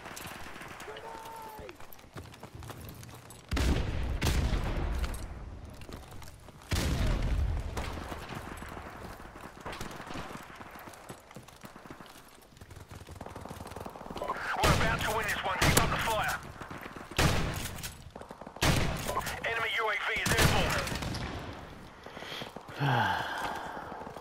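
Gunfire in Call of Duty Modern Warfare Remastered, several separate loud shots and short bursts spread across the stretch, with someone talking in between.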